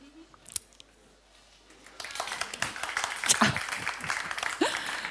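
Audience applause at a talk on the future of small business: quiet for two seconds, then a dense, sustained burst of clapping from a crowd that continues to the end.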